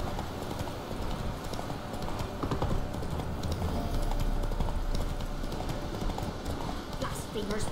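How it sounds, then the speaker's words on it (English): Horse hooves clip-clop steadily in The Witcher 3, a continuous trotting patter that stays loud against dense game ambience throughout. "Horse!"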